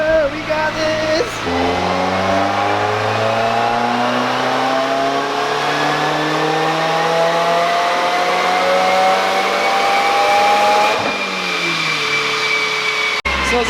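Subaru WRX engine on a dyno, roaring loud and close as it climbs steadily through a long wide-open pull with a rising pitch, then backing off abruptly near the end.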